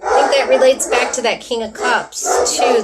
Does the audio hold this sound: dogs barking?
yes